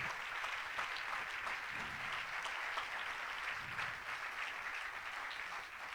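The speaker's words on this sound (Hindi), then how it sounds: "आए यीशु मसीह के लिए जोरदार तालियां बजाइए।" A church congregation at a resurrection night prayer service applauds steadily, a continuous wash of many hands clapping at moderate distance with no talk over it.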